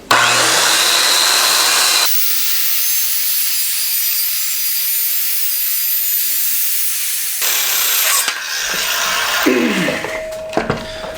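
A saw cuts through wood while building a mechanics workbench, a loud, dense rasping that runs for several seconds, then drops away into a steadier whining cut and a few knocks and scrapes near the end.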